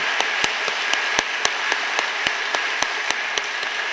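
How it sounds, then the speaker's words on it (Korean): An audience at a seminary chapel service in Korea claps steadily, giving sustained, even applause with individual claps standing out at a moderate distance. "감사의 박수를 한번 다시 했으면 좋겠습니다"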